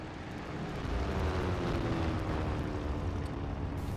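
An aircraft engine starts up in the IL-2 Great Battles flight sim, a rough, rumbling roar that swells within the first second and then holds steady and fairly loud, with no voices.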